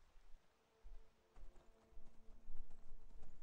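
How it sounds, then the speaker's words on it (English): Horse hooves clip-clopping in the video game Skyrim, faint at first, then a quickening series of hoofbeats growing steadier and louder toward the end, with no talking. "We'll move our horse out of the way."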